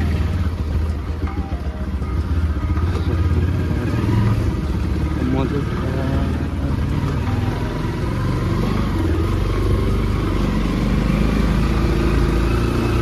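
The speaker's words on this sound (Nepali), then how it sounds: "बाइक स्टार्ट गरिसकेँ रेडी" A motorcycle engine rumbles just after being started, settling into a steady, close, low idle that stays loud and even throughout with no pauses.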